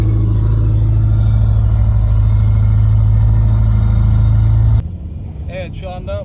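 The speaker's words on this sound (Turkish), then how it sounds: "Şu an aracın orijinal sesini duyuyorsunuz." A car engine hums loud and steady with a low rumble, then cuts out abruptly, leaving quieter cabin sound with a voice speaking briefly.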